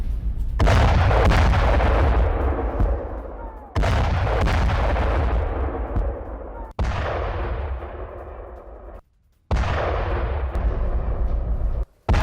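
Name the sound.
air strike explosions in Lebanon, news footage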